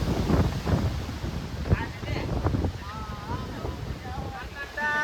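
Strong gusts on the Girnar mountain steps, roughly 1500 steps up, rumble and buffet the microphone throughout, with people talking over the wind.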